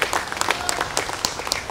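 Applause breaks out from an audience honoring party seniors at a Democrat Party anniversary event, with scattered claps in a steady patter mixed with some crowd noise.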